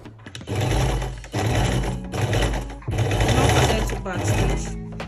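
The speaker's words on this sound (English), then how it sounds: "So now place this on your sewing machine and then sew." A sewing machine stitches a cargo pocket in three loud mechanical bursts of rapid whirring with brief pauses between them.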